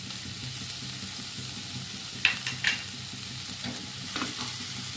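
Vegetable oats soup is stirred in a pan, a few soft scraping clinks of a utensil against the metal over a faint, steady sizzle.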